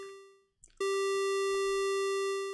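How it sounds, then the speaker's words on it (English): A synthesizer plays a square wave tone, a steady buzzy hum rich in odd harmonics. It briefly drops out with a small click, then returns loud and sustained. "So a square wave has got obviously more content than a simple sine wave"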